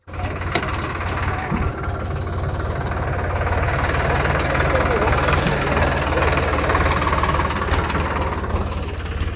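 Tractor engine running close by in a rural field setting, a steady low mechanical drone with a knocking idle pulse that continues throughout, with some background voices mixed in.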